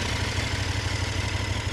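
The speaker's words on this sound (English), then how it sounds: "I just want to do a start up and give you that kind of walk around sound check." A 2021 KTM 1290 Super Duke R motorcycle engine idles steadily and close by, with a loud low rumbling pulse that stays continuous and even throughout, and no voices.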